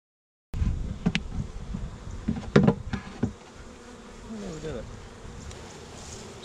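Honeybees buzzing near a hive while frames are replaced and a queen is installed, a steady close drone of many insects with scattered knocks and handling clicks.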